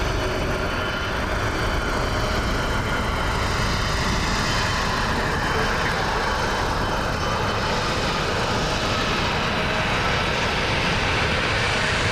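A CRJ regional jet at an airport, its engine roar steady and fairly loud throughout with a broad, continuous rumble and no talking.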